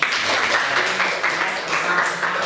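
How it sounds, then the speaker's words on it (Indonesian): Students in a classroom clap their hands together in a steady, loud stretch of applause that fills the space throughout, with a noisy room character. "Tepuk tangan dong."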